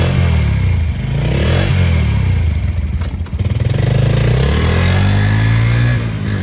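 A used 2018 Honda TRX90X youth quad ATV engine running close by, a loud, steady buzzing idle that rises and falls with a brief revving surge midway.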